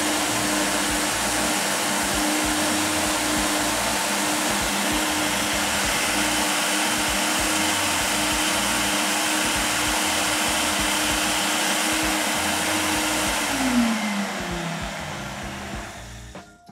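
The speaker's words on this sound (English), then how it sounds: "So in a matter of seconds, our smoothie is nice and smooth, obviously, using the Mod Blend Pro." A MOD Blend Pro blender runs a banana smoothie in a steady, loud whir that holds through most of the stretch, then its pitch slides down as the motor winds off near the end.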